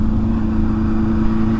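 A Honda Hornet 600 motorcycle engine hums at a steady mid pitch while riding, loud and continuous with no talk.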